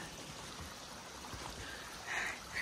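A trail stream flows at a hiking crossing near Springer Mountain, a soft, steady rushing and trickling heard faintly throughout with no one speaking.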